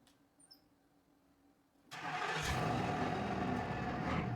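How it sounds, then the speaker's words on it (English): A 1966 Ford F100 truck engine sits quiet at first, then fires up abruptly and runs loud and steady, revving as the truck moves forward, with no talking. "I need to move the car forward first"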